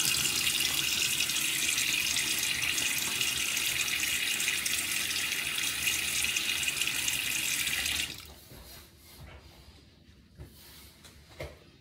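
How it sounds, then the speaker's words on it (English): Tap running into a sink while someone wets their face before a shave, a steady close splashing flow for about eight seconds, then it shuts off, leaving faint drips and small handling sounds. "Let me get my face wet real quickly."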